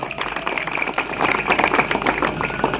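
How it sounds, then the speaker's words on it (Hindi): A company gathering marking Independence Day breaks into dense, steady applause for Mahatma Gandhi, many hands clapping together at an even level throughout the short stretch. "तो हम चाहेंगे एक बार उनके लिए जोरदार तालियां होनी चाहिए"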